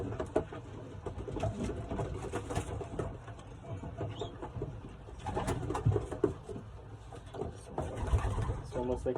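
Racing pigeons in a young-bird loft cooing softly in the background, low rumbling coos repeated now and then beneath someone talking nearby.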